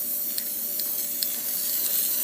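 Aerosol paint stripper sprays onto the blade of a Cold Steel GI Tanto knife as a steady, close hiss, with faint ticking pulses repeating about every half second and no talking.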